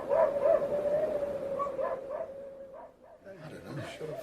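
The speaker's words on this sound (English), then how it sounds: "You should tell the Huskies, Chief. They've been going on bloody non-stop." Huskies bark and howl continuously in a radio drama, with a sustained wavering howl running under overlapping yips and barks, fairly near, while voices talk over the din.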